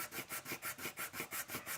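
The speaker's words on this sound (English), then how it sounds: "I'll just push down tightly and just keep on sanding" Steady back-and-forth scraping of sandpaper on a part being sanded to fit, about nine even strokes in under two seconds, close and alone.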